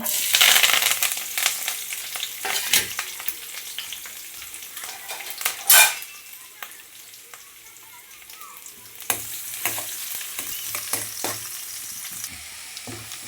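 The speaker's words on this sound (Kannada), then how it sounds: "ಸ್ವಲ್ಪ ಬೆಳ್ಳುಳ್ಳಿ ಹಸಿ ವಾಸನೆ ಎಲ್ಲ ಹೋಗಿದೆ, ಸ್ವಲ್ಪ ಫ್ರೈ ಆಗಿದೆ" Garlic and curry leaves fry in hot coconut oil for a tempering, a close, crackling sizzle with spatters and occasional metal stirring scrapes, rising and easing over several seconds.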